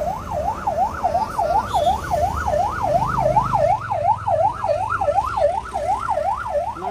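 An ambulance siren wails at an accident scene on a road in Nepal, a steady rapid rising-and-falling tone repeating loudly and close for the whole stretch, over low road rumble with no talk.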